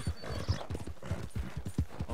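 Hooves of a wild horse clip-clopping in the Red Dead Redemption 2 video game, a quick, uneven run of close, fairly loud thuds that continues for about two seconds with no talking over it.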